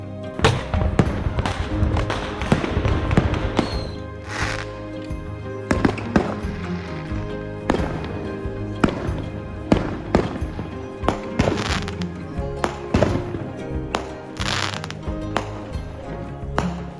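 Fourth of July fireworks booming over a neighborhood, with repeated loud bangs and crackling bursts in an irregular volley throughout, some near and sharp, others rumbling farther off.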